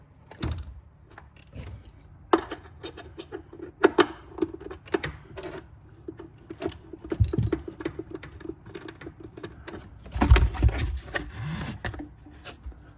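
Two 10 mm bolts on the intake of a Porsche Cayman 981 are worked loose with a hand tool, giving scattered close clicks, taps and scraping rattles, with a denser clatter near the end.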